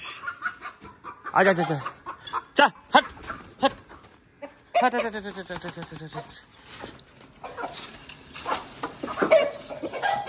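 Small backyard chickens, a hen and a rooster, cluck and squawk in a few short bursts close by, mixed with shouted talk and shooing calls.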